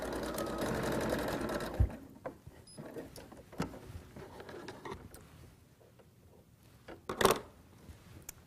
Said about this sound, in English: and sew along the seam.